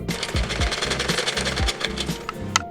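An electric sewing machine stitching a fabric puff sleeve, a rapid mechanical needle chatter running in short bursts, close and steady.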